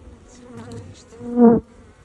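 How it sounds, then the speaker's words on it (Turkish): Close, droning buzz of bees that swells sharply loud for a moment, then drops away. "Çok farklı bir arı ya."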